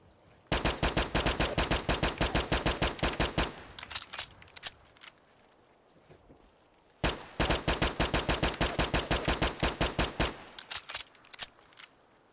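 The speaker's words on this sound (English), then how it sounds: "Now the next mod I have for you is the Glock 19X sound replacer, and of course this is what that's going to sound like." Rapid semi-automatic Glock 19X pistol fire in Fallout 4 using a CSGO Glock sound replacer, two long strings of crisp, evenly spaced loud shots separated by a brief pause, with no talking.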